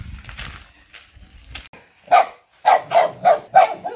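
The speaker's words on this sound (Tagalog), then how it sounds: "Maraming aso." A dog barks several times in quick succession, loud and close, after a stretch of quieter rustling and faint background noise.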